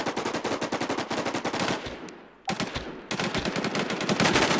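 Rapid automatic gunfire in the survival shooter Infestation, dense bursts of shots close and loud, breaking off briefly mid-clip before the firing resumes just as heavily.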